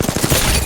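Rapid gunfire bursts from a video game match, a quick stuttering volley of shots lasting under a second, loud and close with no talk over it.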